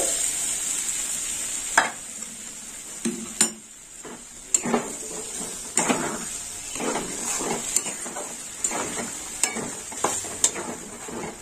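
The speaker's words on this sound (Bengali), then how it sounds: "ডালটা আমি একটু কষে নেবো, পুরো ডালটাই দিয়ে দিলাম।" Moong dal fries in a hot pan and is stirred, with a soft ongoing sizzle punctuated by repeated sharp scrapes and clicks of a spoon against the metal pan at an irregular rhythm.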